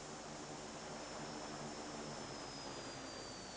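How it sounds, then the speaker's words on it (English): A Mongolian Airlines aircraft in flight, heard as an unbroken, even engine roar with a broad rushing drone that holds steady throughout, alone with no voices. "you have to fly there with Mongolian Airlines."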